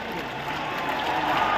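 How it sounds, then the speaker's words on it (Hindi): An audience at a government housing-scheme event claps steadily for a beneficiary receiving house keys from the chief minister, with dense, continuous applause over a brief stretch. "बहुत तालियों से हार्दिक स्वागत करें"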